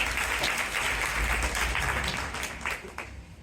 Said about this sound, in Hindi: तो मैं आमंत्रित कर रही हूँ प्रवेश को, तालियां बजा दीजिए एक बार